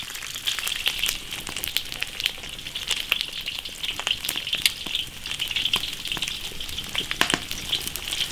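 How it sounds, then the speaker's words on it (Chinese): Fish sizzling in an iron wok as it browns golden on both sides: a close, steady crackle of hot oil with frequent sharp spitting pops and no voices. "把这个鱼快煎到两面金黄"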